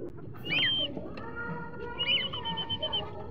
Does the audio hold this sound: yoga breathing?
no